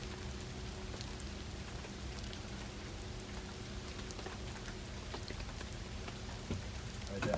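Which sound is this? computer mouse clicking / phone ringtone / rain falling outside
rain falling outside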